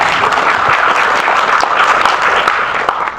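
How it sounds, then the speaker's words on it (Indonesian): Audience applause fills a hall at an international gathering in Bangkok: dense, steady clapping from a large crowd, loud and close, sustained evenly with no break and no voice above it. "Tepuk tangan untuk kita semua."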